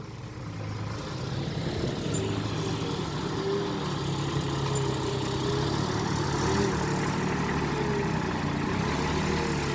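A Rocky vehicle's engine idles softly and smoothly. A low, even rumble holds steady and moderately close for the whole stretch, with no voices.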